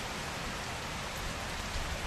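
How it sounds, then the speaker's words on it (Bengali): Steady rain falling outdoors during the monsoon season, a continuous broadband hiss with faint patter, moderately quiet and unbroken throughout. "এখানে দেখো বৃষ্টি পড়ছে"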